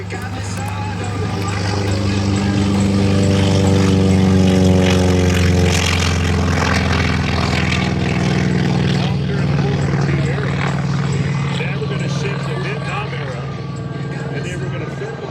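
A propeller aircraft flies past at an airshow, a loud, droning engine roar with a wavering, shifting pitch that swells and slowly fades, with crowd or announcer voices mixed in underneath.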